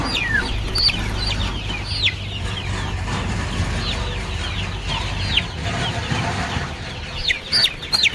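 Free-range village hens and month-old chicks cluck and cheep nearby in a coop, with frequent overlapping calls and short peeping bursts over a busy, continuous background.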